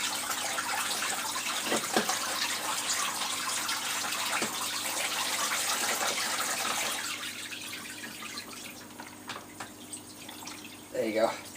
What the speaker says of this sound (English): That's just my spray bar splashing in the water.